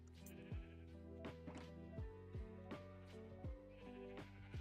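Minecraft sheep let out several short, wavering bleats, some overlapping and evenly spaced, over a quiet game backdrop.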